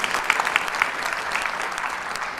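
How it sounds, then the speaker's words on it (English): A conference audience at an early-childhood education keynote gives a short burst of steady, full-room applause with a few sharper individual claps standing out. "let's give Cindy a round of applause."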